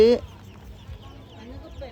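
Ducklings and chicks at a market in Isan, Thailand, give a sharp high peep at the start, then softer scattered cheeps and clucks over a murmur of background voices.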